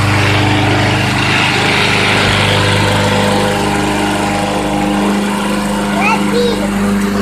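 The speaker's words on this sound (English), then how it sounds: "It's Nana mowing the lawn, huh?" A lawn mower mowing the lawn runs as a steady engine drone throughout, with a voice and other talk over it and faint chirps near the end.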